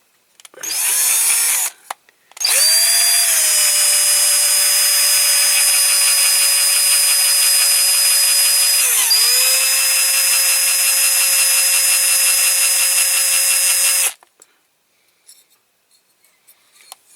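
A small power drill with a 2.5mm bit whines steadily for about twelve seconds, drilling a Dinky Toys Big Bedford model, with a brief dip in pitch midway, after a short initial burst; near and loud.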